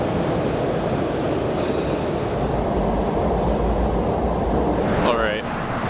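A Philadelphia Broad Street Line subway train roars past at speed, a dense, loud, continuous rumble of wheels and rails with a short metallic squeal near the end.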